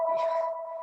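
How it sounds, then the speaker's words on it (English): A telephone rings with a steady electronic tone, sustained and fairly loud, fading slightly toward the end, with no talk over it. "sorry about the phone ringing"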